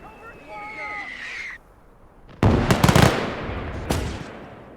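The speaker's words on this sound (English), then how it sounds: "Mortar seems to be firing." Mortar and cannon fire in a WWII battle video game: a sharp loud blast followed by a sustained rumbling barrage and a second bang, preceded by a whistling tone and synthetic owl-like calls.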